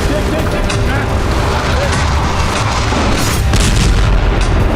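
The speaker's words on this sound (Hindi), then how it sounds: "इजरायल की सेना ने बैरूत के बाहरी इलाकों पर जबरदस्त बमबारी की" Heavy booming blasts from an Israeli bombardment of Beirut's suburbs rumble continuously at close range, dense low thuds layered with crackling bursts over several seconds, with no voices.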